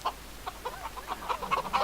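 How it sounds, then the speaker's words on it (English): A hen clucking in a chicken coop, a run of short, close, repeated clucks and murmurs with a few louder calls near the end, no talking. "He's gone to the chicken coop and he's going to have a chat with the chicken."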